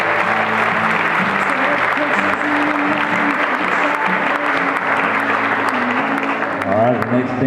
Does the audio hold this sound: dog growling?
no